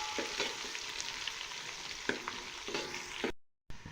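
Garlic and ginger paste frying in a pan, a steady crackling sizzle with occasional stirring scrapes, close and continuous, briefly cutting out near the end.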